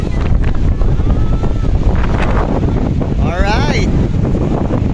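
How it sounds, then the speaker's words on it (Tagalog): Strong wind gusting across an open hilltop lookout on Mt. Samat, Bataan, roaring steadily and loudly into the microphone, with a voice speaking briefly partway through. "lakas ng hangin"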